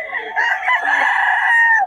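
A rooster crows once, loud and close, in a long drawn-out call lasting nearly two seconds.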